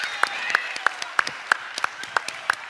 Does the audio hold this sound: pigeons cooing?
no